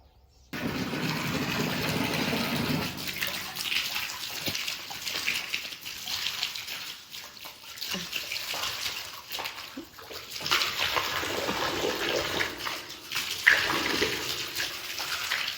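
Steady gushing water from a pump pours and splashes continuously onto farm trees, loud and close, with a mechanical hum beneath and no talking.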